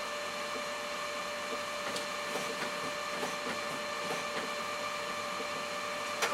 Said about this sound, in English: That's my printer kicking into action now.